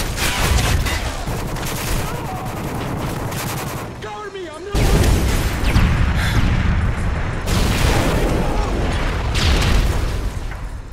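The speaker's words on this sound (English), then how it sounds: "Friendly predator missile inbound." A predator missile strike in a first-person shooter game, with loud, dense blasts and rolling explosion noise filling the scene, a brief drop near the middle and then more heavy booming and gunfire.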